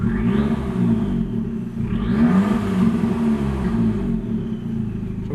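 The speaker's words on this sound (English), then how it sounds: "So that's the standard exhaust note." Abarth 595 EsseEsse exhaust in sport mode, a deep burbling rumble that rises into two short revving blips before settling back, loud and close without speech.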